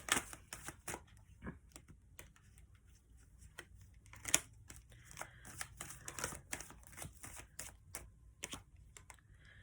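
Tarot cards are shuffled by hand in quick, irregular bursts of soft papery riffles and slaps, close and fairly quiet, with brief gaps between them.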